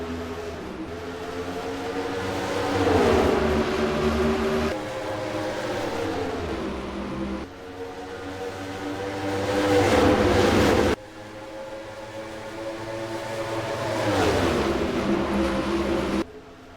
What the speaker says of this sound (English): We are green flag racing for the Wawa 400 at Dover Motor Speedway.